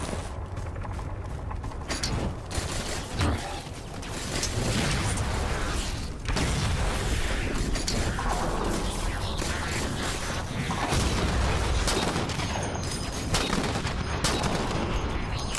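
Sustained rapid gunfire from the Halo 4 PC video game as a weapon is emptied. It is a dense, loud, continuous stream of shots with mechanical clatter, running without pause the whole time.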